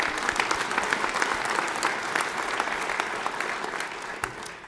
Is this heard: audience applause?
yes